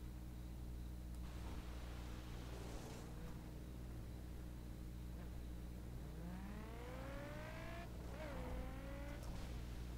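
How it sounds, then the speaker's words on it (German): Car drifting in The Crew racing game, a steady engine drone with rising revs and sweeping pitch glides, then tire squeal as the car slides, moderately loud and fairly close. "Alter, das war jetzt ein schöner Drift."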